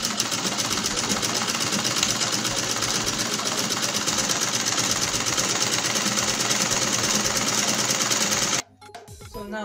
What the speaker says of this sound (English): I will go ahead and sew.